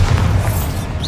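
Bombarda exploding spell in Hogwarts Legacy on Xbox Series X, a loud, close, low booming blast sustained through a brief moment.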